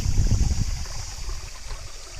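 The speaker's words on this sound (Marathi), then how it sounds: "एक छोटीशी विहीर आहे आणि त्याच्यातून वाहत येणार आहे पाणी" Water flows in a steady, soft trickle from a small well at Vishalgad fort, Kolhapur, with a brief low rumble at the start that fades, leaving a gentle constant rush.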